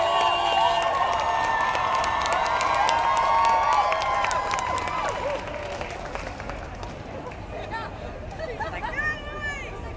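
A street protest crowd in New York chants and cheers while marching through traffic, a loud dense roar of voices with whistles and shouts, thinning somewhat midway and continuing as scattered cheering.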